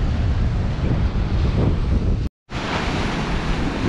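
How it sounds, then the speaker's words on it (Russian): Black Sea waves on the Crimean coast roll in a loud, continuous rush mixed with heavy wind buffeting the microphone, broken by a brief cut of silence before the surf resumes. "покажу вам побольше моря, потому что вы все обожаете наше Черное море"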